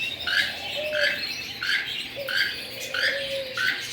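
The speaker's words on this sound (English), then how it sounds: "Look at these pretty birds." Birds in a large exotic bird store squawk repeatedly in harsh, rhythmic bursts roughly every half second, fairly close and loud, with a faint background murmur and no clear talking.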